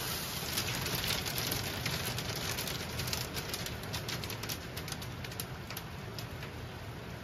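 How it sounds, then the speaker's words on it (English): Steady rain pours down at a mountain cabin after ice turns to rain, a dense hiss of drops drumming on a surface close by, continuous and fairly loud with no voices. "The ice turns to rain."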